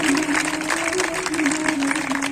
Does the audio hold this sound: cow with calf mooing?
no